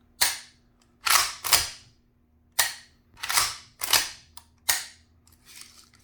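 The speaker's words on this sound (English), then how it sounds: "We're gonna pull the trigger on it one time." Dry-fire trigger clicks from an empty Stevens 320 20 gauge pump-action shotgun, a series of about seven sharp, close mechanical snaps at uneven intervals with quiet gaps between them.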